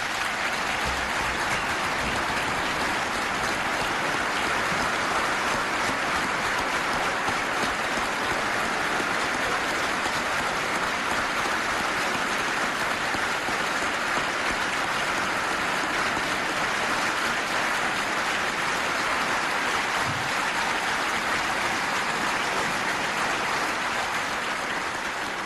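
A large audience in a packed room bursts into dense, steady applause that holds at full strength for the whole stretch, a continuous wash of many hands clapping.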